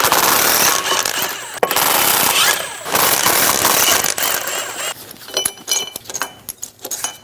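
Bolts on a Dodge Durango driveshaft, 8mm, being run out with a power tool on a 5.7L V8: a loud, steady mechanical rattle for most of the clip that breaks into short, choppy bursts toward the end.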